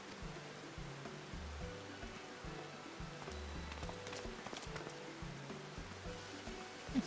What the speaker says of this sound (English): So I like how we're just standing there in the rain